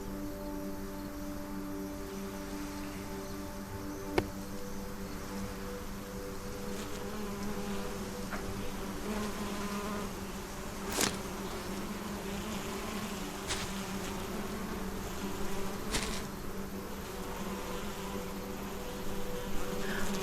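Bees from the beehives in the SolarPunk video game drone in a steady, dense buzz throughout, with a few brief clicks and soft game sounds rising over the constant hum; no one speaks.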